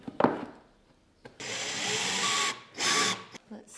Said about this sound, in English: I just need to get some screws and electric screwdriver.